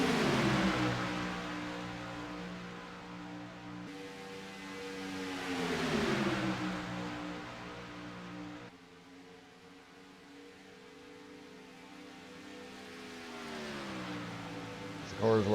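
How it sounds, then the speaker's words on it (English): Chevy SS series race cars at Crowsnest run down the front straightaway in two packs, their engines droning and rising and falling in pitch as they pass, loud and steady with a sharp burst at the end. "Cars work their way down the front straightaway once again."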